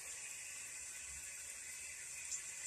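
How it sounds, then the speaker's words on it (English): A tap runs in a steady, continuous stream while hands are wetted under it, a soft hiss of water heard close and alone with no talking. "And the water back on here. Really wet your hands."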